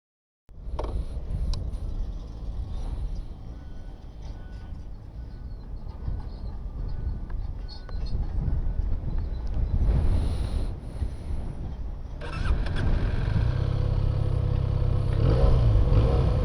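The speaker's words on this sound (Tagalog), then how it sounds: "paparinig ko sa inyo yung sound check ng motor na to no, para marinig nyo" Benelli 302S motorcycle engine running during a sound check, a steady low rumble held close throughout, with revs rising noticeably near the end and some wind buffeting over the microphone.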